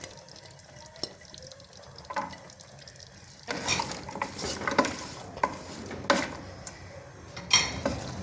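Chicken with zucchini, capsicum and carrot is stirred in a hot pan for Uzbek rice, a soft sizzle under quiet opening scrapes, then louder irregular clatter and tossing of the ingredients against the pan.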